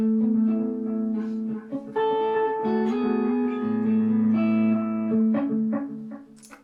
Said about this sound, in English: Now we've added some delay.